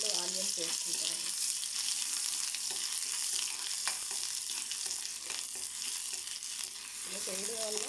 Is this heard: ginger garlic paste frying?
yes